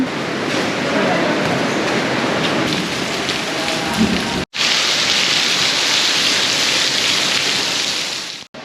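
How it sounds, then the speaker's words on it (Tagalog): Heavy, steady rain roars close by, a dense broadband hiss with a brief break midway before the downpour resumes at the same strength. "At ang lakas na po ng ulan."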